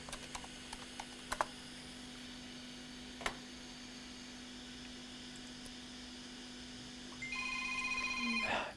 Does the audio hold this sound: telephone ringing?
yes